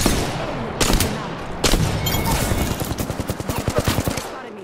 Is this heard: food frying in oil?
no